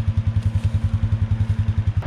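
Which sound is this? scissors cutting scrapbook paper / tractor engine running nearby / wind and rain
tractor engine running nearby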